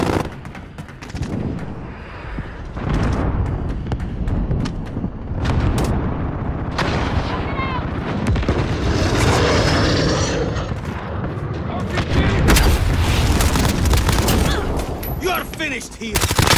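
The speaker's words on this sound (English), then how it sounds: "Enemy cruise missile incoming." Cruise missile strikes land in a Call of Duty Ground War match. Heavy booms and rumbling blasts mix with dense gunfire, loud and near, in repeated bursts throughout.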